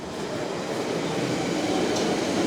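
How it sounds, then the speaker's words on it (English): A London Underground Central line train runs on the open-air stretch at Roding Valley, a steady low rumble and hiss of wheels on rail heard from nearby, fairly quiet and unbroken, with no speech. "I'm gonna just barely miss the next Hainault train"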